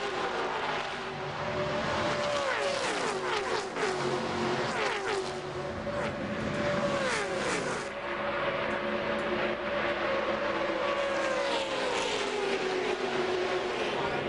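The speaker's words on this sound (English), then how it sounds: "Here's Jason Jarrett trying to do away with the lap car and get 2nd spot away from Damon Lusk." Stock cars roar around the track during the 2001 Food World 300, several engines droning and shifting pitch together as the field passes, loud and continuous with the commentary voice.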